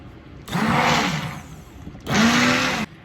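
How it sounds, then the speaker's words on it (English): Immersion blender whirring through chunky potato soup in two bursts, each lasting over a second with a short pause between, loud and close, with a slight pitch dip as the blade catches. "so we're gonna go ahead and use our immersion blender."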